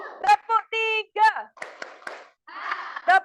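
Young students in a sixth-grade classroom perform a chanted class clap, voices singing the pattern while brief rattling bursts of many hands clapping punctuate it near the middle and end.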